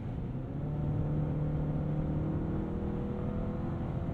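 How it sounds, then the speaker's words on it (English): Engine hum from a 2023 Chevy Colorado as the transmission downshifts, a steady low drone with a faint rising whine heard from inside the cab, with no voices. "there's some hesitation from the transmission on the downshift."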